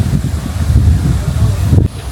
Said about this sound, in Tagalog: Ayan, sarap ng hangin.